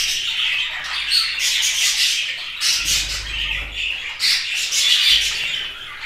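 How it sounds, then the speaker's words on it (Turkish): Pet parrots squawk in harsh, repeated bursts close by, overlapping calls rising and falling in loudness over a low background rumble. "Kuşları da göstereyim size."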